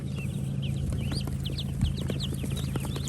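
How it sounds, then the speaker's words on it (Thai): Many high, chirpy peeps from Muscovy ducklings scattered over a steady low mechanical hum, with a faint thump midway. "ลูกเป็ด ที่เรามาส่งวันนี้ แข็งแรง"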